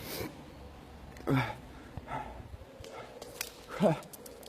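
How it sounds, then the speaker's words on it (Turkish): A sick dog whimpers and yips softly in a few short whiny bursts, with quiet background noise between them, in a mosque courtyard. "Hasta köpekçiyi buldum."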